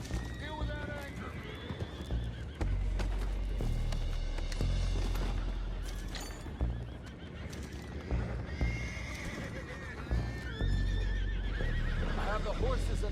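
Horses neigh and whinny repeatedly in the Red Dead Redemption 2 video game, mixed with clip-clopping hooves, shouting voices and busy background action, the animal cries rising sharply over a dense, loud scene.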